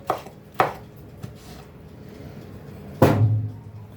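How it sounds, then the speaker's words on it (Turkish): A few sharp knife chops through a red pepper on a cutting board, spaced irregularly, with one heavier thud near the end; close and fairly loud, no talking. "Bir tane kırmızı kapya biber doğrayacağım."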